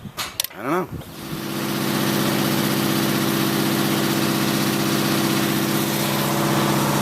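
An Onan engine with carburetor trouble sputters briefly at the start, then settles into a steady, loud, even running drone that holds to the end.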